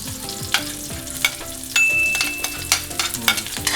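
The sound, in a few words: garlic sautéing in a pan for chop suey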